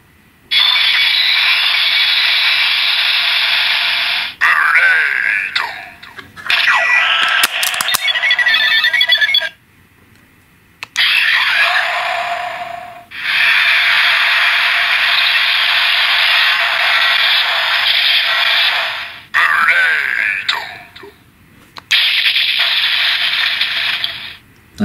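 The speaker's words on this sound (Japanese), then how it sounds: "アナザーウォッチの破壊音は全部一緒ですね" A Kamen Rider Zi-O DX Another Watch toy plays its electronic destruction sound effect as loud, harsh bursts, repeated several times with short silent gaps and button clicks between them.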